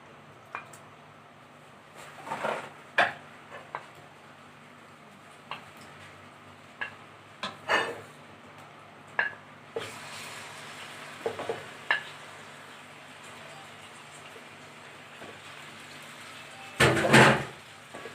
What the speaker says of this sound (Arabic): خلاص انا نزلت بالفراخ اهي، بفضل ايه شويه كده اشوحها كده لحد ايه اما لونها يغير